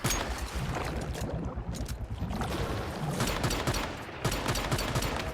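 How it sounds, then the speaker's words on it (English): Pistol shots are spammed in the video game Once Human, dense rapid bursts of loud gunfire firing almost continuously with short gaps, mixed with busy game effects and no talking. "So I'm just gonna spam my pistol."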